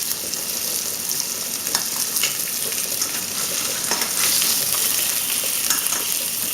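Lamb chops fry in a pan as their fat renders, a close, continuous sizzle with crackling spits and occasional scraping stirs, swelling slightly louder toward the end, with no one speaking.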